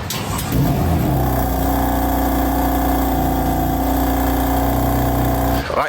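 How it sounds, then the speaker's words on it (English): A stock BMW M2 Competition starts cold at home: a brief cranking catch, then the engine settles into a loud, steady, droning high idle that holds for several seconds before cutting off. "I filmed a cold start at my house because it's truly awful."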